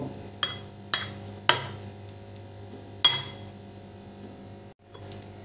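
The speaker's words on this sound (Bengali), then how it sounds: "এবার সব কিছু ভালো করে মিশিয়ে নেব" Ground cumin, dried chilli and chilli powder being mixed for a paneer paratha filling, with a handful of sharp clinks of a spoon against a bowl, spaced irregularly and up close in a quiet room.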